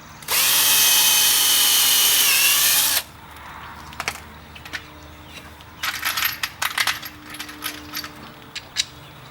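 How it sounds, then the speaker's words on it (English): Power drill boring through a boat splash guard: a loud, steady high-pitched whine for about three seconds, then stopping, followed by scattered clicks and rattles of handling parts and tools. "drill through"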